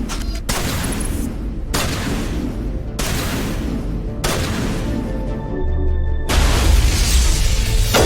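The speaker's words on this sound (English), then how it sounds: "let's change to the sniper here." A sniper rifle firing in Mass Effect, with four or five loud, heavy booming shots spaced about a second or more apart, each trailing into a rumbling decay.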